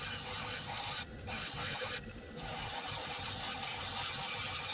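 A lapidary grinding wheel works a piece of velvet obsidian with a steady, close wet rasping and rubbing over a constant machine drone, broken by two brief pauses in the grind.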